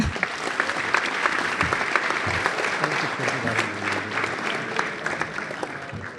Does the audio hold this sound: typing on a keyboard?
no